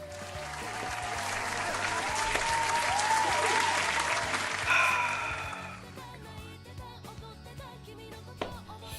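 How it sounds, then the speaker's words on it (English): A crowd claps, loud and continuous, building over the first few seconds with a faint tonal sound running underneath. The clapping breaks off near the midpoint, leaving scattered lighter sounds afterward. "Clap it up, guys. Clap it up."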